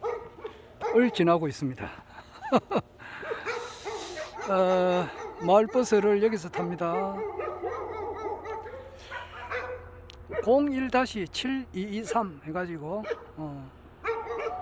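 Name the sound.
dog barking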